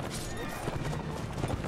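Horse hooves clatter and a horse whinnies during a medieval battle in Mount and Blade: Warband, a dense busy mix heard under someone talking.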